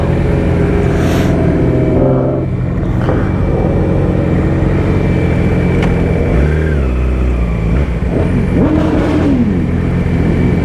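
A motorcycle passes near a rider on the road to a cars-and-coffee meet, its engine note rising and falling in revving sweeps over a loud, constant drone of wind and engine, with no talking.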